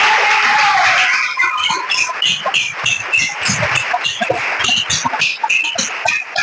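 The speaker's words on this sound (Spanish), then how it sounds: "Bata las palmas para el Señor." Church congregation clapping hands together during an evening sermon, a loud, dense and continuous patter of many palms filling the room, with a rhythmic pulse emerging partway through.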